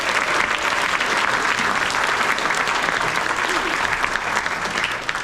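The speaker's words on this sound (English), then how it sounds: "Let's hear a round of applause for everybody being inducted today" A luncheon crowd at a Gold and Silver Circle induction gives a loud, sustained round of applause for the inductees, dense and even from start to finish.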